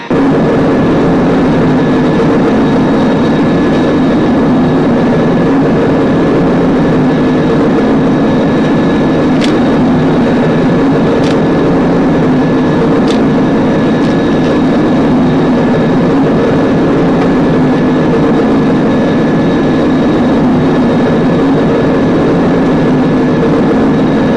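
Thunderbirds craft's chemical engines firing after a countdown: a loud, steady roaring rumble that holds constant throughout, with a few brief sharp clicks near the middle.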